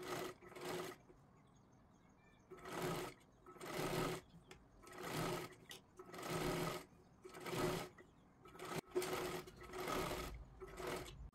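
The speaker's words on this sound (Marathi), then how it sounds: "आता व्यवस्थित कडेला एकदम शिलाई मारून घ्यायची आहे आपल्याला।" A sewing machine stitching along the edge of blouse fabric, running in repeated bursts of steady mechanical whirring with short pauses between them, close by and moderately quiet, with occasional talking between the runs.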